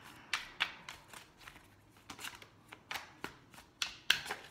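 Tarot cards being shuffled by hand: a quiet series of crisp riffling snaps and soft papery slaps in an uneven rhythm, close up, with no talking.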